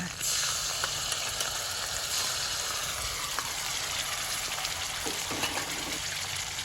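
Celery stir-frying in a hot wok, with a steady, close sizzle and hiss running throughout and a few faint clinks in the pan.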